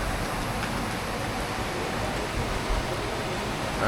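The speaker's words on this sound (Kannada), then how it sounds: "ಸೊ ಅಗೇನ್ ರೈನ್ ಸ್ಟಾರ್ಟ್ ಆಗಿದೆ" Rain falling over the Coorg hills on a cold night, a steady, even wash of broadband hiss with no distinct drops standing out and no voices.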